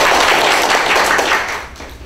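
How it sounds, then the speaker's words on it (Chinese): A seated audience applauds to welcome a speaker at a machine-learning meetup, steady dense clapping filling the room at close range, then thinning and fading near the end. "请大家掌声欢迎"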